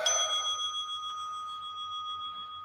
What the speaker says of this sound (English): Let it go with that bell.